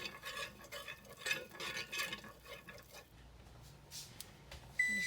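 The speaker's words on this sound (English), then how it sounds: "add a tiny bit of lard to the bottom of that iron skillet and work it around" Lard is spread around the bottom of a preheated iron skillet for homemade biscuits, with scraping and stirring strokes against the metal for about three seconds, then quieter handling and a faint clink.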